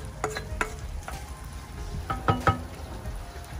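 Potatoes dropped into a hot pan with chopped garlic: a soft sizzle with several scraping, knocking stir strokes in quick bursts, up close and fairly quiet, no talk.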